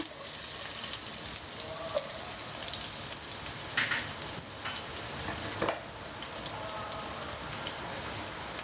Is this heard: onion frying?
yes